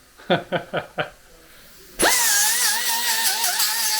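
An electric grinder in a workshop where carbon parts are made: four short clicking bursts, then the motor spins up to a loud, steady high whine that holds to the end.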